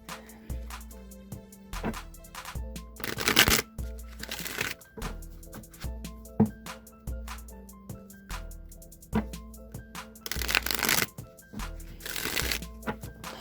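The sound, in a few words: shuffling a Rider-Waite tarot card deck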